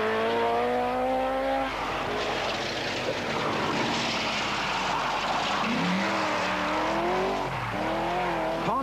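A rally car from the 1980 Manx Rally races past. The engine rises and falls through gear changes and builds again under steady road noise. No one speaks.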